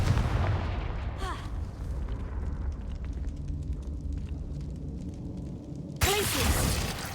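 Confringo fire spell blasts in the Hogwarts Legacy video game: a loud explosive burst at the start, then a rumbling, crackling fiery tail, and a second sharp blast near the end.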